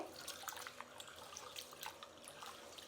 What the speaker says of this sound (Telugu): ఇప్పుడు నీళ్ళు పోసి పక్కన పెట్టేస్తామండి